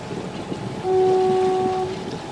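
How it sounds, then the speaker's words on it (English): A foghorn on Buzzard's Bay sounds once, a long steady tonal blast lasting about a second above a constant windy, watery background. "So that's the foghorn that we've been hearing all night."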